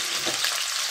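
Chicken pieces sizzle and crackle steadily in very hot oil in a pan over maximum heat, a bright, continuous frying hiss with no talking.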